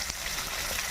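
Chopped ginger and curry leaves frying in hot oil for a Kerala-style amla pickle, a faint, continuous crackling sizzle over about a second.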